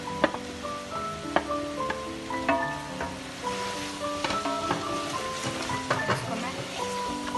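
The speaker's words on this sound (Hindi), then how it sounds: "अब मैं इसमें ये गोश्त भी डाल दूँगी।" Beef sizzles and fries in hot oil for white beef pulao, a steady crackling hiss with scattered pops and the clink of stirring, while someone talks over the cooking.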